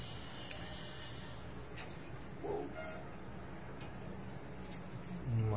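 Pigeons on a rooftop give soft, low cooing calls amid faint outdoor background noise, with a brief sharp tap and a louder rustle near the end.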